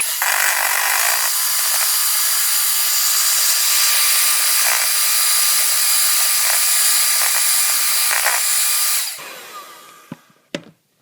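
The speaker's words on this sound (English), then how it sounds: "So I'm going to mix this up because you won't be able to hear anyway" An electric mixer whirs loudly and steadily while beating royal frosting, a close, continuous hum with slight changes in pitch before it winds down and stops, followed by a couple of clinks.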